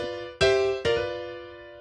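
Blues piano riff in G, two chords struck in quick succession and left ringing out, a soft low note underneath, solo piano, clean and close.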